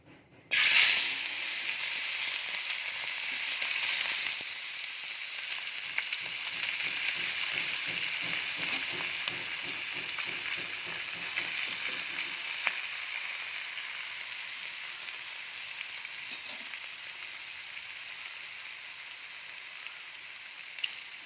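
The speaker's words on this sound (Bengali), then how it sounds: "এখানে লবণ, হলুদ, শুকনো লঙ্কা গুঁড়া দিয়ে এখন মাখানো শেষ, এখন ভাজা হবে।" Maya fish coated with salt, turmeric and dried chili powder fries in hot oil, making a continuous, even crackling hiss close by with no talking.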